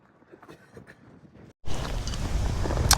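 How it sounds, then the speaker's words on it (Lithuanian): Strong wind roars across an open mountain summit about 3 km high, faint and muffled at first, then suddenly loud, broadband buffeting against the microphone that continues steadily to the end. "Žiauriai didelis vėjas."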